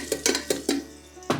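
Spoon scraping and clinking against a pan while stirring whole spices such as cloves and dried red chillies during dry roasting, five sharp rhythmic metallic strokes with short gaps, close and alone.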